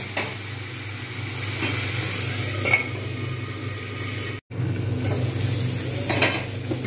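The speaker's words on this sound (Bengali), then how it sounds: "এটা ভালোভাবে একটু ঢাকনা দিয়ে ভেজে নেব" Sago pilaf fries in oil in a pan, a low steady sizzle broken by occasional scrapes and clinks of stirring, with a brief dropout partway through.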